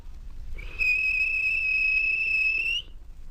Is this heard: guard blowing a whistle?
yes